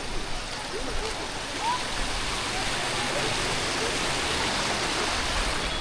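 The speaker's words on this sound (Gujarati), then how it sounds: "જો કેવું મસ્ત પાણી જાય છે" A steady rush of flowing water fills the scene continuously, a broad, even stream-like hiss with no breaks.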